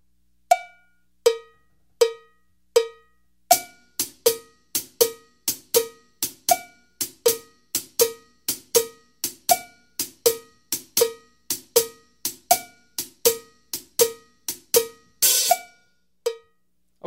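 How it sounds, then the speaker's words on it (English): Blues shuffle pattern on a drum kit hi-hat, the middle note of each triplet left silent so the strikes fall in a lilting long-short swing, close and steady, with no voices. "for the shuffle groove, what the hi-hat does is play what they call a shuffle pattern."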